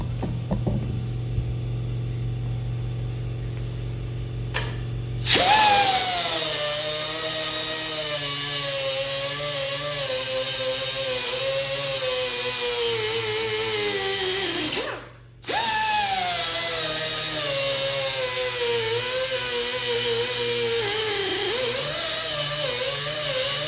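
A power tool whines loudly and steadily as it cuts off a bent nut on an arcade machine, its pitch wavering under load, stopping briefly partway through before grinding on.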